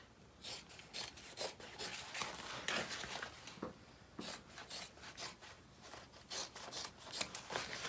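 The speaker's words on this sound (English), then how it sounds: "If you have excess fabric, you can go ahead and trim it." Scissors trimming excess fabric for a handbag, a run of close, crisp snipping and rasping cuts in an irregular rhythm, soft and alone with no talk.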